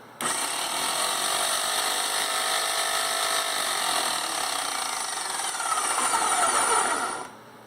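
A Graco X5 paint sprayer pump cycling on prime: a loud, steady mechanical whine and rattle that starts abruptly, runs continuously at close range, then cuts off near the end, with no voices.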